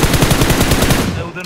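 Rapid automatic gunfire in an online shooter game, a dense loud burst of repeated shots for over a second before cutting off, with no talk over it.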